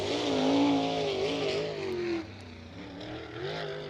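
A USAC National Sprint Car Series sprint car on its opening lap around the Bloomington Speedway clay oval, engine roaring loud and near with rising and falling revs as it passes, then fading to a lower drone.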